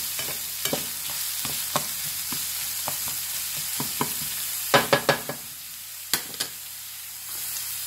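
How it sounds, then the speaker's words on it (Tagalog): Ginger, onion and garlic sautéing in a pan, with a steady sizzle broken by repeated sharp scrapes and stirring clatters from a utensil, several louder knocks clustering toward the end. "Ginigisa ka na ngayon ang luya, sibuyas,"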